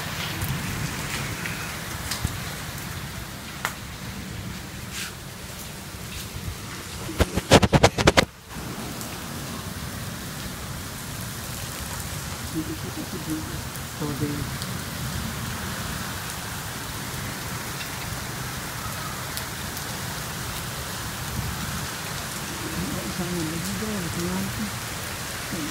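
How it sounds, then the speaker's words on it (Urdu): Heavy rain falling during the first rain of summer, a dense, steady wash of close rainfall that runs throughout, broken by a brief loud clatter near the start. "بارش ہی بارش نظر آئے گی۔"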